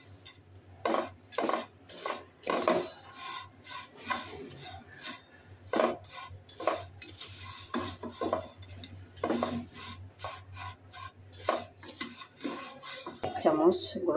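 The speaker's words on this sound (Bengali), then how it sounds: "অনবরত এটাকে নাড়াচাড়া করতে হবে" A spoon clatters and scrapes repeatedly against a pan while lachha semai fries over low-medium heat, the stirring loud, close and irregular, with steady scraping strokes throughout and no talk.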